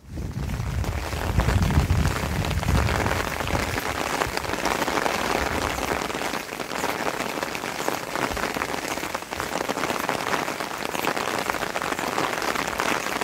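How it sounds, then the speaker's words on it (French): Steady rain pours down on the surface along the Voie de Soulac route between Sanguinet and Parentis, a dense, even hiss with a brief low rumble near the start and no voices. "Je filme avec la pluie"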